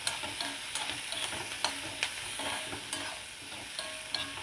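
Large coconut pieces frying in oil for a village-style mutton curry, a steady crackling sizzle broken by scraping strokes of a spoon stirring the pan, close up with no voices.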